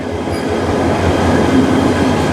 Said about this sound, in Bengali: আমাদের সিলাটি express train Kamalapur railway station ছেড়ে আসলো